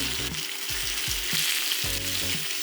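Salmon fillets, about eight ounces each, searing flesh side down in hot vegetable oil in a pan, a loud close sizzle with a low rumbling hum pulsing underneath.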